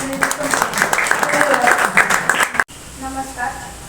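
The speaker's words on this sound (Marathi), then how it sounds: "यासाठी सरांसाठी एकदा जोरदार टाळ्या होऊन जाऊ दे" Audience applause at a speaking and presentation-skills event in Karad, a dense run of clapping that stops abruptly midway, followed by a quieter room with faint voices.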